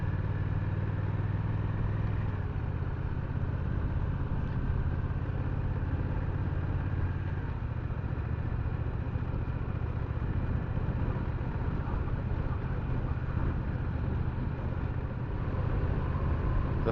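A 2024 Honda Rebel 1100 DCT cruiser motorcycle runs with a steady low engine rumble throughout, its throttle held fairly even with slight swells, heard continuously with a muffled, wind-dulled tone.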